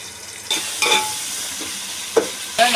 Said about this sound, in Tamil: வெங்காயம் போட்டிருக்கோம் எண்ணெயில்.